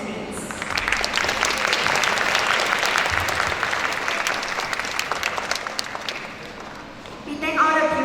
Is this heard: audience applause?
yes